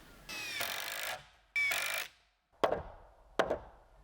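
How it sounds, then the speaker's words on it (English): Nails and screws going into a wood frame for a 10-foot shop wall: two sustained buzzing drill-driver runs followed by two sharp hammer knocks, close and alone with no talk. "using a combination of nails and screws, I'm going to assemble this"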